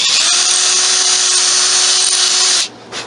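An old blue Ryobi cordless power tool on a lithium battery whines loudly and steadily for about two and a half seconds, then cuts off abruptly, leaving near silence with no talk.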